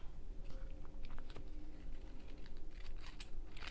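Scissors cut out a paper print tag for decor, a series of quick close crisp snips and paper rustles in an uneven rhythm.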